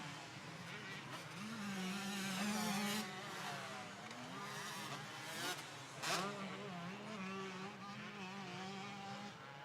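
Yamaha motocross motorcycles racing wheel to wheel for second place at a motocross track, engines revving and droning continuously under a race commentator's voice.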